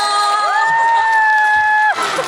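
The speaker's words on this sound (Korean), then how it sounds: "큰 박수 부탁드립니다" Audience at a Korean kindergarten concert, a loud, dense wash of clapping and cheering throughout with a sustained tonal note held through the middle, voices mixed into the crowd.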